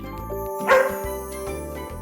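A single short dog bark sounds close by, set against steady background music.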